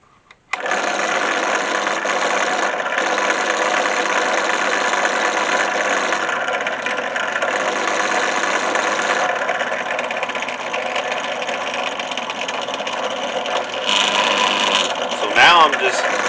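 A steady, loud mechanical whir of a drill boring through stacked leather layers of a lanyard knife sheath, running continuously close by with a brief change near the end.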